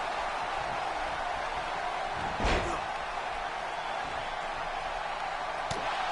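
A heavy elbow strike lands in a wrestling video game, one loud slam-like impact standing out from a steady bed of game noise, followed by a fainter knock a few seconds later.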